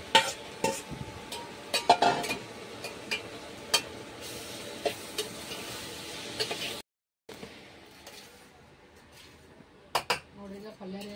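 Cauliflower gobi curry with chili powder and garlic paste is stirred in a pan, a utensil clinking and scraping against the metal in repeated sharp knocks over a soft sizzle, with a brief gap before a few more scrapes near the end.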